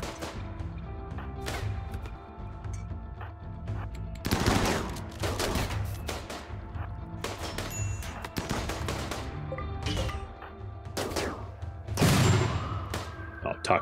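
Rapid gunfire from colonists fighting enemies in the video game RimWorld, with repeated bursts and single shots spread across the scene, mixed with thuds and game effects under steady background ambience.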